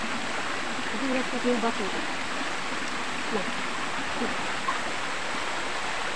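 A very tall waterfall roars as a constant broadband rush of falling water, loud and unbroken, with a person briefly speaking over it.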